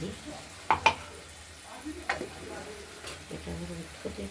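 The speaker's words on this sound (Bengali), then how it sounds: "মশলাটা দিয়ে এবার আমরা কষিয়ে নেব" Spice paste for a rohu fish curry fries quietly in a pan with a soft sizzle, punctuated by a few sharp clinks of a spoon against metal.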